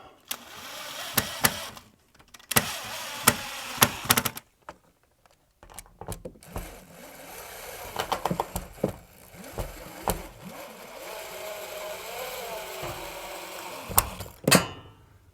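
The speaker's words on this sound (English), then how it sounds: "Get that screw tightened up." Screw driven in while fitting a sliding mirror wardrobe door: bursts of buzzing power-driver whir in short stop-start runs, with clicks and knocks between them, close and fairly quiet.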